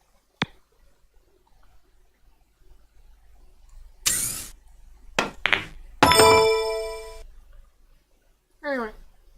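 Sharp clacks of pool balls colliding after a cue strike in the Maximum Pool video game, heard as a few isolated knocks among tonal game chimes and effects.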